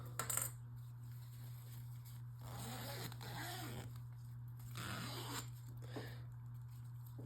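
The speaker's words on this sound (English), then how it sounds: "Now I'm gonna zip you guys back up." A zipper closes a mesh enclosure holding baby painted lady caterpillars, making two soft rasping zip strokes over a steady low hum, fairly quiet and near, with no voices.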